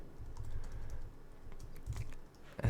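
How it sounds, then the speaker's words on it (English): Quick, uneven keystrokes on a computer keyboard while working in an SSH session, fairly faint and close, coming in rapid bursts with short pauses and a louder tap at the end. "I think I'm typing too fast for my own good"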